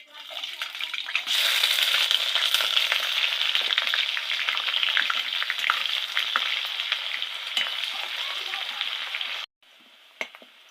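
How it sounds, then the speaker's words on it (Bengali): Chopped onion with cumin seeds, dried red chilli and bay leaf frying in hot oil, a loud steady sizzle with occasional stirring that stops abruptly near the end, leaving a faint crackle. "লাল লাল করে ভেজে নেব।"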